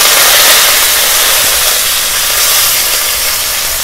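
Curry leaves hiss and sizzle loudly in hot oil for a Tamil fish curry, a steady dense crackle close up with no voice over it.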